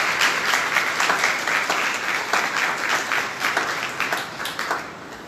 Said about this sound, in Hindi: अब तालियां बजा सकते हैं अपने घर पर।